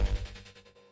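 A rapid chopped stutter from the gated Sigh style Eat Mushroom Serum preset in the DOOMSDAY pack: dense rhythmic pulses that decay quickly into quiet.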